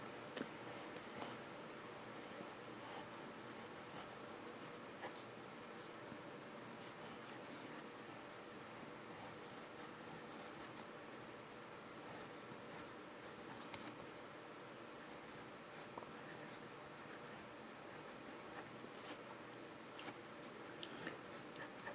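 A fountain pen with a fine nib scratching across thin Tomoe River paper, soft, steady, close-up writing strokes with faint ticks over low room hiss for the whole span.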